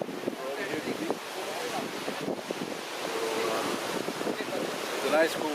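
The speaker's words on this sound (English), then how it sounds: "We're over here to the beach." Ocean waves and gusty wind at a beach near the Kennedy Space Center make a constant rushing wash with microphone buffeting, and a voice speaks over it.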